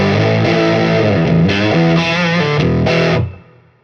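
Electric guitar played through a Boss EQ pedal with its level turned fully up, giving a loud, full-range boosted and driven tone; a few strummed chords ring out in sequence, then the last chord stops abruptly.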